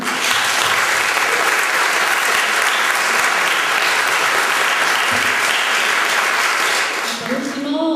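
Loud, dense applause from a large audience at a film festival award ceremony, sustained clapping that fades slightly at the end as a voice begins speaking in Spanish.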